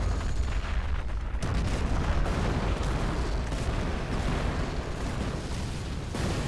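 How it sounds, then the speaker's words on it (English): Lancaster bombing run in the game Company of Heroes: a continuous barrage of heavy, rumbling explosions and booms, dense and loud, overlapping one after another. "This is a fucking Lancaster bombing run."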